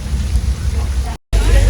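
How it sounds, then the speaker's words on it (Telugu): An artificial rain effect on a Universal Studios movie set in the USA pours down as a loud, dense, steady hiss and rumble, broken by a brief moment of silence before resuming. "చూడండి వర్షం పడితే ఎలా వస్తుందో చూపిస్తున్నాడు."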